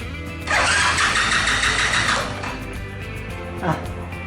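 A Honda Super Cub engine with its cylinder top end rebuilt is cranked over at full throttle for a compression test, a loud close churning burst lasting under two seconds before it drops back to a low hum.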